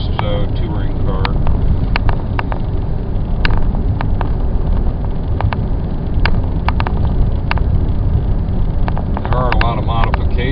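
A supercharged 2008 Cadillac XLR-V drives along with a steady engine and road roar, loud and constant, while someone talks over it throughout.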